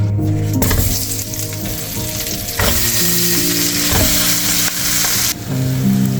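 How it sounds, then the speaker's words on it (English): Vegetables and aromatics sizzle and fry in a pot after beef short ribs have been browned, a loud, continuous crackle broken by a few stirring scrapes and shifts in intensity. "We are not looking to fully cook the veggies, just add some color and then proceed to add back the meat."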